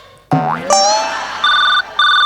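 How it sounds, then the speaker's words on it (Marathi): A springy boing gives way to an electronic phone ringtone, two steady pulses of bright tone separated by a short gap, loud and close. "शांत बसा फोन आलाय"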